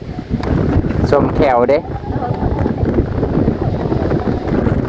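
Strong wind buffets an outdoor microphone in a rural Thai setting, a constant loud low rumble that carries through the whole stretch while someone speaks briefly over it.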